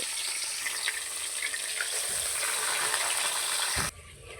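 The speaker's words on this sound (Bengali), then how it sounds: "রুই মাছ ভিজে নেব" Rohu fish frying in a pan makes a dense, steady sizzle close by, with faint spatters and pops, before it cuts off abruptly near the end.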